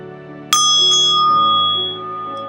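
A small bell struck during a guided meditation gives a bright ping, then a second lighter tap, and the tone rings on and slowly fades, heard alone.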